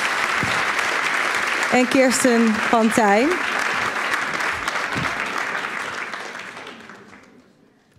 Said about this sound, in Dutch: Nou, hartelijk applaus.